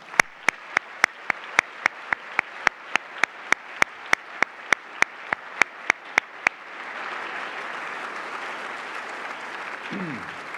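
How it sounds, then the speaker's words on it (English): A large audience at an honors event breaks into applause for the honorees: about six seconds of sharp, regular claps, then a dense sustained wash of clapping that continues to the end. "if we could all give our honorees a huge round of applause"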